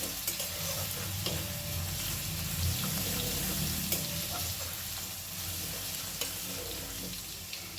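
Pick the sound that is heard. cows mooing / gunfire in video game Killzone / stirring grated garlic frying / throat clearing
stirring grated garlic frying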